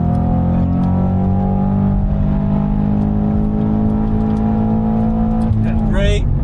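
Subaru BRZ track car powering through a corner at a racing school, its engine holding a steady loud drone with a rising note near the end, while an instructor talks over it.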